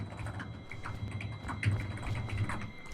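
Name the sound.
typing on a computer keyboard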